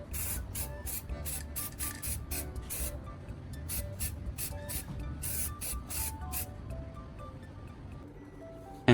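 Aerosol spray coating hissing onto a repaired plastic part in repeated short bursts, several quick passes of even, close spray with brief pauses between them, steady and fairly loud throughout.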